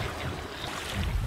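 A sailboat under sail on open sea at dawn, making about 4.5 knots with a light following wind, gives a steady wash of water and wind noise with low rumbling gusts against the microphone and no voices.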